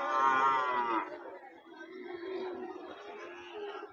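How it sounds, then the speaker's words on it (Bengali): Cattle at a farm give a loud, drawn-out moo up close, followed by quieter farmyard noise and faint background chatter. "এই যে যথেষ্ট ভালো সাইজের গরু এগুলো"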